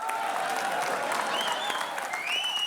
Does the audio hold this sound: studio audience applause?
yes